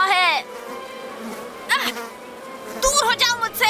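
Several flies buzz in close, wavering swoops around a hive-like nest in a jungle safari cartoon, coming in short bursts with animated voices around them.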